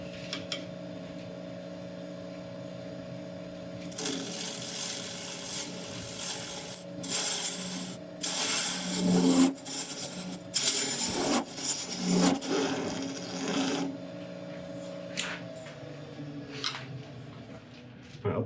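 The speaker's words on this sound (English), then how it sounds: "Now I just need to cut down a small recess on this edge here" A lathe tool cuts a small recess into the edge of a turned boxwood box, giving a close scraping, rasping sound in uneven strokes over the steady hum of the spinning lathe.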